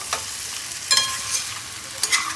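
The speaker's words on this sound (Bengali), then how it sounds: "এদিকে মাটন কষাচ্ছি" Pre-boiled mutton being stir-fried (kosha) in a pan at home gives a faint background sizzle, broken by a few sharp spatula scrapes and stirring clatters spaced irregularly, with no talking.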